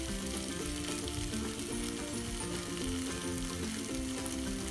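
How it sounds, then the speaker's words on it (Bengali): Onion-tomato masala with ground turmeric, Kashmiri chilli and coriander fries in oil for shahi paneer, giving a steady, close, dense sizzle with occasional stirring and no talk. "মশলাটা খুব ভালো করে কষানো হয়ে এসেছে, তেল আস্তে আস্তে ছাড়তে শুরু করেছে।"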